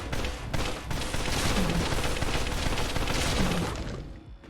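A NEEHER energy weapon modded into Fallout 4 fires continuously, giving a loud, dense, rumbling barrage with little break over about four seconds before tapering off.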